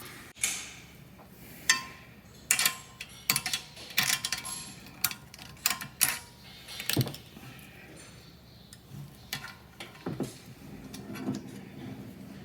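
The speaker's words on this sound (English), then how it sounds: "this needs to be compressed down so I can get these cotters in place and hold it in with spring tension on the valve" Jaguar XK150 valve spring being compressed to fit the cotters, a series of sharp metallic clicks and taps at irregular intervals, close and fairly quiet, with faint shuffling between them and no talking.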